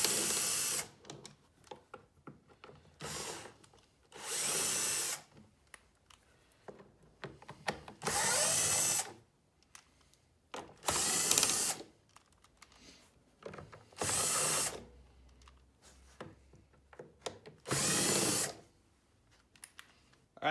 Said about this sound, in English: 4mm Allen head type of attachment to take the 6 bolts out of the faceplate, and that will separate it from the console